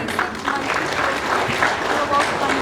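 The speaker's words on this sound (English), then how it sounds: "Give a big round of applause." At a charity awards event, an audience claps in a steady wash of applause, with a voice speaking from the stage over it.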